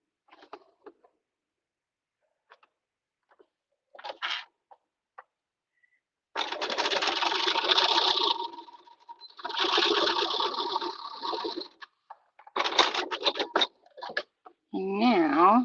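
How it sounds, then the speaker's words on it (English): Home sewing machine stitching a woven logo label onto culottes made from a thrifted tablecloth, close bursts of rapid mechanical whirring after a few soft handling taps, with a short chirpy sound at the end. "I'm going to stitch it into this"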